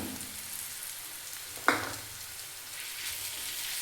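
Grated raw mango stirred into a hot onion tempering in a pan with the gas switched off, for mango chitranna: a soft, steady sizzle with one sharp clack of a spoon midway.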